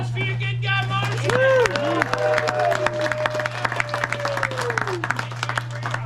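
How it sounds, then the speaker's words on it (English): An outdoor audience at a cowboy gunfight show in Tombstone, Arizona claps in a lively burst under a loud voice and crowd chatter, with a steady electrical hum running underneath. "Let's give a round of applause for your good guy, Marshall."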